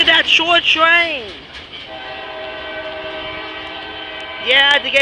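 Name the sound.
CSX short freight train passing with horn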